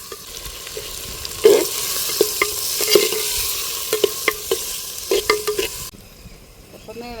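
Small shallots sautéing in a pot over an outdoor wood-fire stove, a continuous close sizzle broken by repeated spoon knocks and scrapes against the pot, no talking.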